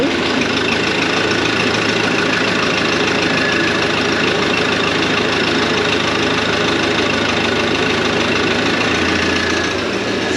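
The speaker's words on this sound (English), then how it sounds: "that's the first one running of the day" An old tractor engine runs steadily at a tractor show, a loud, continuous low rumble with a knocking idle rhythm that holds through the whole stretch with no talk.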